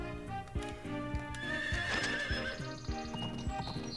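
Horse neighing and clip-clopping hooves from the farming video game Story of Seasons: Pioneers of Olive Town, a whinny rising over steady hoof taps and a busy game soundtrack, no talk.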